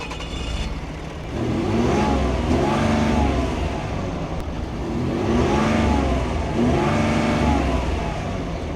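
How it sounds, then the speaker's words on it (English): A Ford F-150 3.0 Powerstroke diesel pickup with stock exhaust revs repeatedly, rising and falling in several throaty surges over a steady idle rumble, close and fairly loud. "Now we're gonna go get a clip of what the stock exhaust sounds like."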